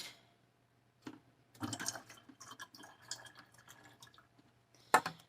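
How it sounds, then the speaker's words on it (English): Water dripping and trickling from a leaking plastic seed starter tray, with scattered splashes and a short run of pouring and spattering, then a sharp final splash, close by and quiet with no talk. "Oh, this is leaking water."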